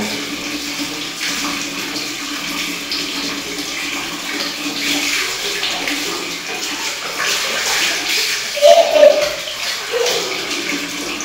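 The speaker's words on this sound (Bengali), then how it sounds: "মিহিকা তার বোনকে স্নান করাই দিচ্ছে, শ্যাম্পু করাই দিচ্ছে" Water runs and splashes continuously as a young girl bathes and shampoos her little sister, a steady close wash of pouring and sloshing, with faint voices and a few brief higher sounds.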